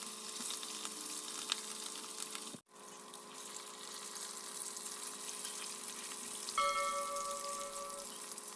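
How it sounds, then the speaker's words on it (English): Fish frying in oil in a home kitchen, a faint steady sizzle that runs throughout with a brief dropout and a thin tonal whine near the end. "While the last batch is frying"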